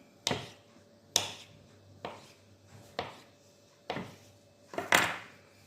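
Knife chopping food on a cutting board in a kitchen, six sharp distinct thuds spaced about a second apart, close and clear with no talking.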